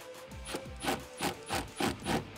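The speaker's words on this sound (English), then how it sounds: "you're gonna need an 8 millimeter socket to tighten this down" 8 mm socket ratcheting on an air filter clamp while installing an Airaid MXP cold air intake on a 2014-2018 Silverado or Sierra 5.3L, five or six rhythmic rasping clicks close up, no voices.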